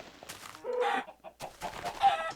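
Chickens in Minecraft clucking in two short bursts of blocky, game-style fowl calls, loud and close, with no talk over them.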